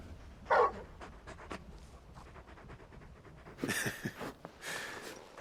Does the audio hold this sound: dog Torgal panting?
yes